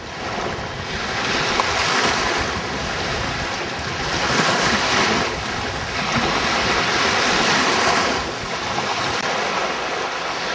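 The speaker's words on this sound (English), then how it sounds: "I've stood on the beach in all 3 states, but that's still the Pacific Ocean." Pacific Ocean surf washing onto a beach, a steady broadband roar with waves swelling and breaking in slow surges every few seconds, plus some wind noise on the microphone.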